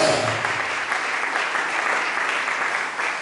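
A church congregation at a fasting and prayer service breaks into sustained applause, a dense, even wash of many hands clapping that carries on for several seconds without pause.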